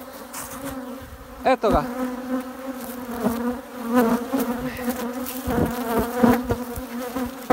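Honeybees swarm and buzz loudly around an open beehive as a beekeeper lays a foil sheet over the frames, a dense steady drone with a brief rustle and a few words spoken close by.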